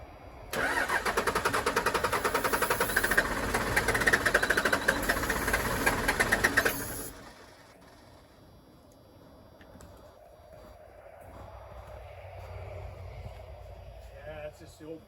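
A 1996 Dodge Ram 2500 with a 12-valve Cummins diesel cranks and fires, a loud rough clattering burst lasting several seconds before it drops to a low, quieter idle rumble, with people talking nearby.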